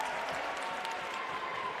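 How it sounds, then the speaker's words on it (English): Crowd at a high school basketball game, the St. Raymond vs. Archbishop Stepinac CHSAA Archdiocesan championship, cheering and clapping in a steady, fairly faint wash of noise that holds through the whole stretch. "Crowd getting into it."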